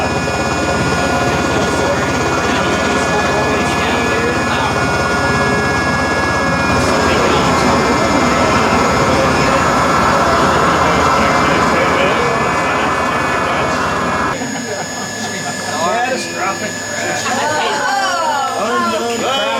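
A helicopter engine and rotor in a flight simulator drone loudly and steadily, with voices talking over it, then the roar cuts off abruptly near the end, leaving quieter chatter.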